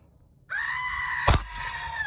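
Goat bleating sound effect used as a start tone at a rifle range: a single sustained, nasal bleat that starts abruptly and is cut through midway by a sharp loud crack, heard close and clear.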